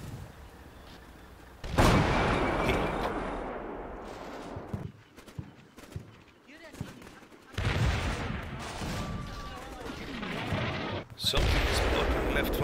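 Gunfire in the war game Combat Mission Shock Force 2 comes as dense bursts of rifle and machine-gun shots with heavy booms. Loud volleys start and stop in waves, and quieter gaps with scattered shots fall between them.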